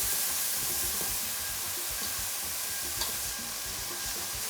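Small strips of bacon lardons sauté gently in a pan, a steady close sizzle and hiss running throughout with faint stirring scrapes, no talk.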